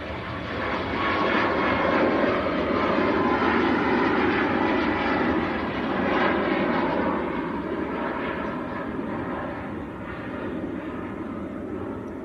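A Ryanair jet airliner bound for Tirana roars steadily at Manchester Airport, a sustained rumbling engine noise at moderate distance that swells slightly and then eases.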